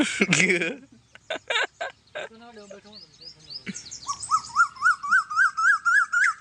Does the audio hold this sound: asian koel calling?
yes